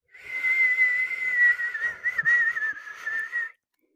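A person whistles one sustained, wavering tone for about three and a half seconds, close and alone, the pitch wobbling and breaking briefly midway before it stops.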